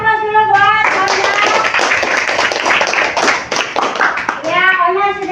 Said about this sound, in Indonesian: berikan aplaus dulu buat Onya